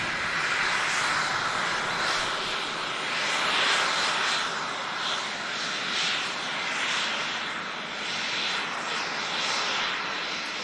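Aircraft engines roar continuously at Manchester Airport as planes line up for departure, a loud steady jet rumble with slow swells in intensity and no speech.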